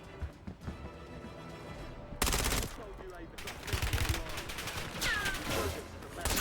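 Automatic gunfire in the Warzone battle royale, a video game built on Modern Warfare 2 loadouts: rapid bursts crack out in dense, loud volleys with crashing impacts, sustained over several seconds.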